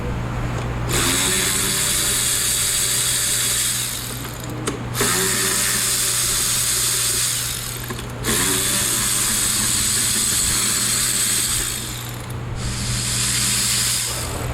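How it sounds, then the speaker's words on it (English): A power tool, likely an impact driver or ratchet, loosens engine intake manifold bolts in three long, loud bursts with short pauses between them, set against a steady low hum. "let's get the rest of the manifold bolts loosened"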